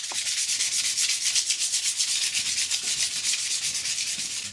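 Steady rhythmic rasping of sanding rust off metal wheels of a dryland mushing rig, a fast repeated scrubbing stroke, close and continuous with no voices.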